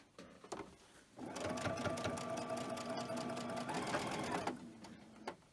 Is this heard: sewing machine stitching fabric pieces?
yes